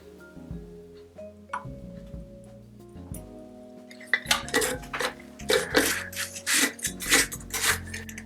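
A metal spoon scoops a teaspoon of tannin for homemade honey mead, first with faint scrapes, then a quick run of bright clinks and taps against a container, close up and without speech.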